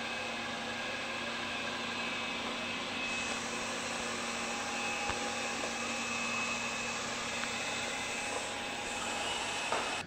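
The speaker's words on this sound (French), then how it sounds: "j'avais mis l'aspiration au maximum afin de pouvoir voir le bruit que faisaient donc les 16 200 PA proposés par l'aspirateur" A Eureka J15 Pro Ultra robot vacuum runs at its maximum 16,200 Pa suction, giving a steady, close, even whirring hiss with no pauses, alone for the full stretch.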